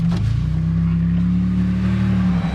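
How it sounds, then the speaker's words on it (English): Steady mechanical whine from a Nissan GT-R transmission with a low engine drone underneath, heard from inside the cabin, constant and fairly loud. "You can hear the GTR transmission's a little noisy"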